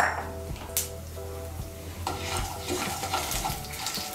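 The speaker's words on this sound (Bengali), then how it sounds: "আমি একটা তেজপাতা, 2টো শুকনো লঙ্কা আর হাফ ছোটো চামচ পাঁচফোড়ন ফোড়ন দিচ্ছি।" A bay leaf, two dried chillies and half a teaspoon of panch phoron sizzle in hot oil in a pan, a continuous close crackle with a few sharp clinks of a spoon or pan edge stirring.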